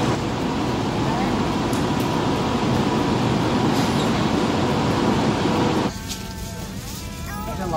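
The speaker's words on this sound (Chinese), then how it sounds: "129634列车马上就要进站了，列车停靠一站台" A train pulls into a station platform with a steady loud rumble of rolling wheels and carriages that drops off near the end as it slows, leaving faint squeals and station noise.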